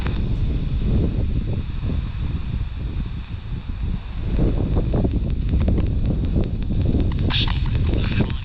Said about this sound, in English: It is so windy here.